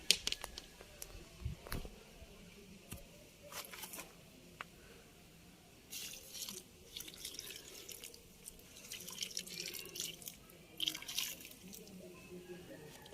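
Water trickles and drips into a bucket of quicklime, with soft splashing and intermittent bursts of pouring, fairly quiet and close.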